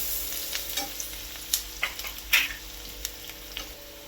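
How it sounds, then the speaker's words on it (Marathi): Onion sautés with turmeric in a pan under a soft, steady sizzle, broken by sharp close scrapes and clacks of a spatula stirring at an irregular pace, with no talking. "कांदा इथे छान परतले गेले आहे."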